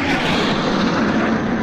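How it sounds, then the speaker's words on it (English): A helicopter in a video game roars steadily and loudly overhead, a dense continuous engine and rotor drone with no talk. "Helicopter's back, helicopter's back."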